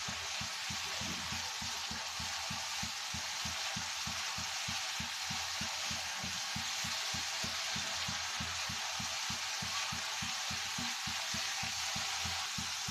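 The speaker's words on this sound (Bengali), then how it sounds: "এখন মশলাটাকে ভালো করে কষিয়ে নেব আমি" Spice paste for an eggplant mash fries in a pan with a dense, even hiss of sizzling oil, steady and close throughout, over a faint rapid pattering underneath and no voices.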